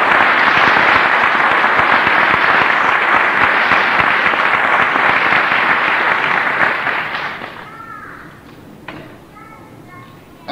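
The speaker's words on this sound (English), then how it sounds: "Can we give Professor James Small an acknowledging round of applause?" A large audience claps loudly in sustained applause for a professor at a lecture, dying away after about seven seconds, with a few faint voices heard as the clapping ends.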